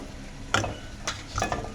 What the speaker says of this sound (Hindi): तो हमारी देसी घी में इसके अंदर हम कुछ ड्राई फ्रूट्स ऐड करेंगे, काजू, बादाम, पिस्ते।